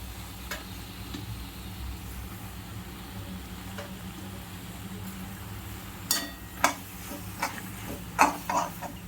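Vegetable pasta sauce bubbles quietly in a pan with a soft, even sizzle, then a spoon stirs it in a few sharp scraping and clinking bursts near the end, close by and without talk.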